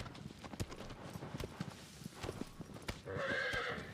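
A horse in Shadow of the Colossus gallops with quick rhythmic hoof clops, then lets out a loud whinny near the end, close and clear.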